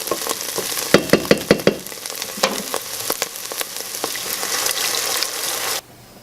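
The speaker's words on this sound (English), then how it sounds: "we're going to add in our beef broth" Beef broth goes into a hot pot of sizzling onions for soup, with a loud frying hiss, a quick run of sharp clatters at first, then steady sizzling that cuts off abruptly near the end.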